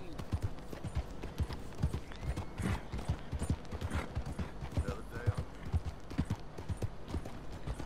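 Rapid, rhythmic clip-clop of horse hooves trotting in Red Dead Redemption 2, close and continuous, with a brief whinny and faint voices in the background.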